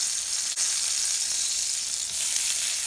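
Olives and tomatoes hit a hot pan with toasted garlic, giving a steady, close, bright sizzle that hisses evenly throughout with a brief dip near the start.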